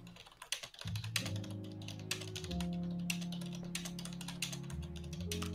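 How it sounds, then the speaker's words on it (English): Rapid typing on a computer keyboard clatters in quick, irregular clicks over a sustained droning tonal background that dominates the mix, with the key taps fairly close but partly buried. "A nice keyboard you got there, Naka."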